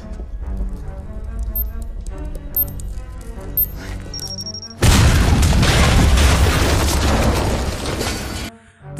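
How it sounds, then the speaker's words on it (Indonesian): A stun grenade detonates in a film action scene, a sudden loud broadband blast that cuts off quieter tonal music and rumbles on for about four seconds before dropping away. "Nash yang berhasil melacak keberadaan Kate dapat melumpuhkan Kate menggunakan sebuah bom kejut"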